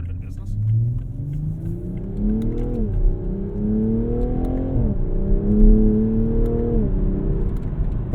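Mk5 Toyota Supra accelerating hard at half throttle, its engine note rising steadily and then dropping sharply at each upshift, three times in a row, loud and close with a deep rumble underneath.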